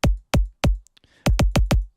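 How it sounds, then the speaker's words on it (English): Dry, unprocessed solo kick drum sample: very short punchy thumps, three spaced hits, a brief gap, then four quicker hits in a tight run. "if we listen to this kick by itself without this thing on"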